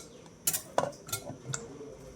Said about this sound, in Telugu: నేను కట్ చేసుకున్న ముక్కలు ఈ పప్పులో వేసేస్తున్నాను.